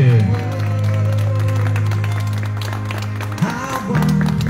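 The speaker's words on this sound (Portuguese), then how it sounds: "Pode bater palmas que nosso homenageado merece." Clapping from a birthday gathering for a father, steady scattered hand claps running under a loud low musical drone and voices, with a brief bump near the end.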